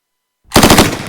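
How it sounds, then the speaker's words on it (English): A gunshot sample plays after a moment of silence, a sharp loud burst of rapid-fire reports that rings out and tails off in under a second. "After a quick preview of our gunshot sample"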